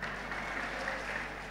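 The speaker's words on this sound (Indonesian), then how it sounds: "Kenapa tepuk tangan?" A brief burst of applause from a crowd at an Islamic New Year religious gathering, an even wash of clapping lasting a second or two.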